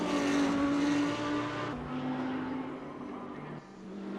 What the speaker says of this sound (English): It almost sounds like it has a wet liner engine with that exhaust note.